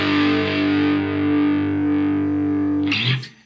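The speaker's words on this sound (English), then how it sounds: "obviously there's a lot of overdrive here" Electric guitar through a DOD Boneshaker distortion pedal set for heavy overdrive, with mids slightly scooped and highs pushed: a thick, sustained, fuzzy chord rings loud and alone for about three seconds, then cuts off with a scrape of strings.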